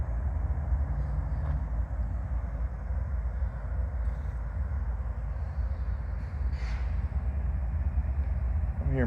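BNSF freight train sitting idle outdoors with air in its brake lines: a loud, continuous low rumble and steady hiss of air that holds throughout, with no talking.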